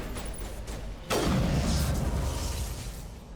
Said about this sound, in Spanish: La explosión.